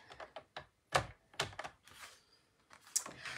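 A paper trimmer (massicot) slicing and clacking on card stock while a 3D folding frame card is made: a string of close, sharp taps and cutting strokes with brief pauses between them.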